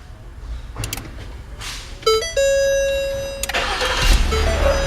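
A Ford Utility PPV police vehicle starting by itself via remote start with no key, a short crank followed by the engine catching and settling into a steady idle, close by.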